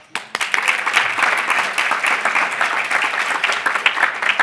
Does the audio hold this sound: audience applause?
yes